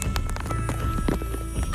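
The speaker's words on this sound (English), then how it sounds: "I hear footsteps." Footsteps in the Roblox game Doors during a Doors X Tower Heroes event, a run of loud, close thudding steps in a quick, uneven beat over constant game background sound.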